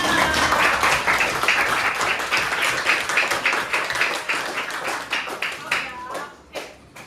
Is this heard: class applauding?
yes